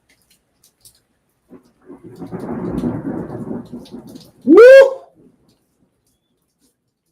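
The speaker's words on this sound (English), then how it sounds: "just now a loud lightning and thunder just crackled" A crack of thunder during a thunderstorm: a rumbling, rain-like roll builds for a couple of seconds, then a sharp, loud crack stands alone before fading into quiet.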